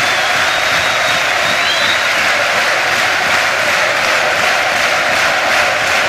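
A large football stadium crowd applauds steadily and loudly throughout, a near standing ovation, a dense continuous roar of clapping with some cheering mixed in.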